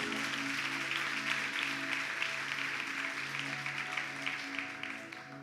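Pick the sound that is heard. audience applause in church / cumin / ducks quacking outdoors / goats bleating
audience applause in church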